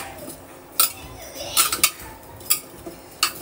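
Grated carrots being stirred in ghee in a pan, a spoon clinking and scraping against the metal in scattered sharp taps over a faint sizzle, close and alone.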